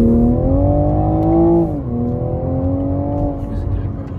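2023 Toyota Supra 3.0 GR accelerating in second gear, engine note rising steadily in pitch, dropping at a shift, then climbing again, loud from inside the car.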